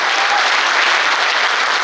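A burst of loud, dense applause from a large audience, steady clapping throughout with no talk.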